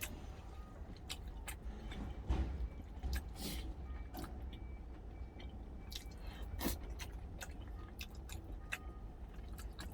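Close, wet chewing and biting of pork jowl eaten with doenjang stew, with soft squishy bites and occasional clicks over a low steady hum, no talking.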